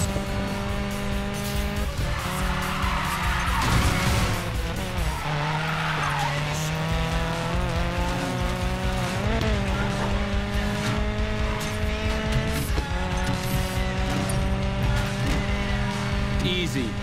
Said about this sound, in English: Engines are revving.